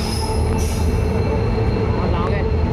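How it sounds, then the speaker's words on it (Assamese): A train pulls into a station platform: a loud, steady rumble of railcars and wheels with brief high metallic squeals, close by, with people talking faintly over the noise. "এইফালে ট্ৰেইন আহি গ'ল দেখিছে নহয়"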